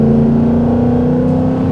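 A supercharged 2018 Ford Mustang GT V8 pulls after a downshift, a loud, steady, deep engine drone with supercharger whine, close inside the car and uninterrupted.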